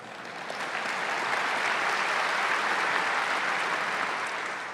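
Sustained applause from a conference audience in Sydney fills the room, swelling in after a moment and holding steady throughout, dense and even with no clear voices on top.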